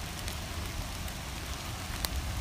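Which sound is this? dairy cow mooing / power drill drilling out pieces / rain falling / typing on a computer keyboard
rain falling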